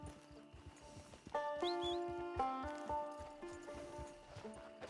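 A horse in the video game Red Dead Online clops along, with soft hoofbeats, a drawn-out whinny, and sustained tonal game sounds layered at modest volume.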